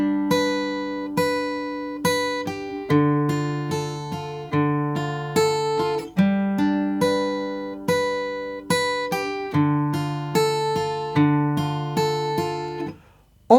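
Guitar plays two repeated bars from a Baldur's Gate 3 song, as clear plucked notes and chords that ring and decay one after another, close and alone.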